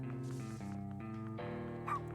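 A poodle dog in the video game UNSIGHTED gives a short, bright bark-like yip near the end, over steady looping game music with layered tones throughout.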